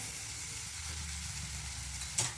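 A green chilli sizzles in hot oil in a pan for a squid roast, giving a dense, even hiss up close. A brief clink comes near the end.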